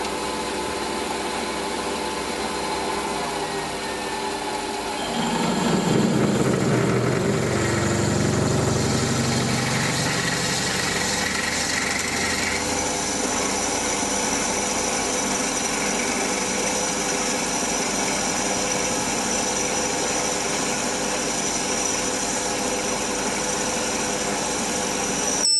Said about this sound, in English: I'm going to go straight in with a 9mm drill